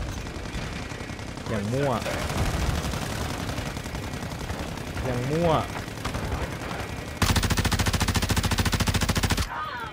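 Automatic gunfire rattles in Call of Duty Modern Warfare II during a DMZ match, with sustained bursts of machine gun fire under someone talking excitedly in Thai.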